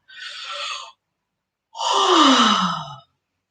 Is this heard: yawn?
yes